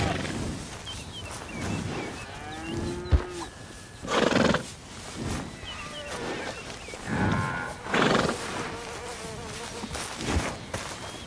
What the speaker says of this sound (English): Look how proud that horse is, and well he should be.